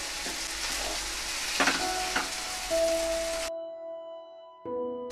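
Tomato and salt sizzle and fry in a hot pan for a few seconds with some stirring, then the frying cuts off abruptly, leaving quiet tones.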